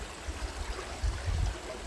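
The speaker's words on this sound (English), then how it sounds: "why the movement of the water is constant in a river" River water flows over rocks and leaves in a steady low rush, with gentle burbling surges close by and no voices.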